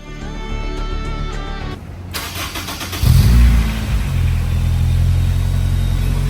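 Ford Raptor engine cranking and catching, a sudden loud startup roar that settles into a steady, deep idle, close by, after a brief quieter hum.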